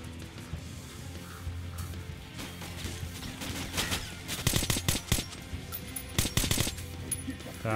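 Gunfire in the first-person shooter Metro Last Light Redux, with bursts of automatic shots and scattered single cracks. Volleys grow denser and louder in the second half over a low rumbling game ambience.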